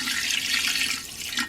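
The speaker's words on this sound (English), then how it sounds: "I'm gonna put some water in there, and I'm gonna put about enough to cover more or less of the chicken." Tap water runs steadily into a pot holding chicken for mole, a close, hissing gush that dips briefly and then surges again, with no talk.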